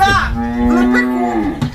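A cow on a rural village farm moos once, a long, loud, close bellow with a slight rise and fall in pitch, lasting nearly two seconds.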